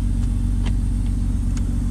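An Infiniti G35 coupe rumbles close by with a steady low engine drone as it pulls off, a few faint clicks ticking over the top.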